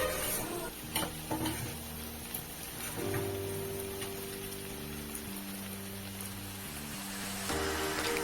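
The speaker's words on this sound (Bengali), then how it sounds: "চিংড়ি মাছের সঙ্গে সমস্ত উপকরণগুলি যাতে ভালো করে মিক্সড হয়ে যায় সেই জন্য একটু নেড়ে চেড়ে নিতে হচ্ছে" Prawns frying with spices in a pan while being stirred, a busy crackling sizzle with repeated scraping of the utensil, and a musical tone running underneath from the middle onward.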